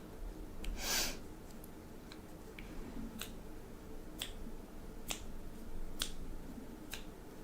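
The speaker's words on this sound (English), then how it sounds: "I ended up snapping my fingers because I'm just jamming too much." Finger snaps repeat at a steady beat of about one per second, crisp but fairly quiet over a soft background hum.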